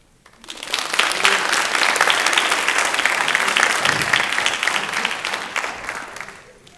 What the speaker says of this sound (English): Maybe one more round of applause is appropriate.